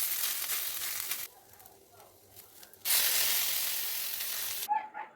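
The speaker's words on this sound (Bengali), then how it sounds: "এখন মেখে নেওয়া আলুটাকে দিয়ে কিছুক্ষণ নেড়ে চেড়ে নেব।" Mashed potato stirred in hot oil in a kadai gives a bright, steady sizzle that dips to a quieter scraping stir in the middle, then surges again before cutting off.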